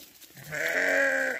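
A sheep gives a single drawn-out bleat, close and clear, lasting about a second over quiet farmyard background, with no talk.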